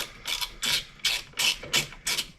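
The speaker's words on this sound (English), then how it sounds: "So I'm gonna go ahead and just put the nut on." A ratchet tightens a nut on a car airbox, six quick raspy clicking bursts in an even back-and-forth rhythm, close and fairly quiet with no talking.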